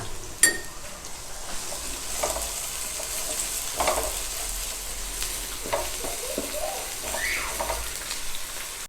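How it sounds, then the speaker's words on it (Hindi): Green chilies frying in ginger garlic paste give a steady, close crackling sizzle, with a few stirring scrapes and a sharp tap near the start, no voices. "अब हम इसमें ग्रीन चिली डालेंगे"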